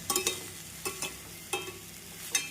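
Mini brinjals being sautéed in a pan for a brinjal fry, giving a low steady sizzle with four sharp scraping stir strokes spaced about a second apart, close and fairly quiet.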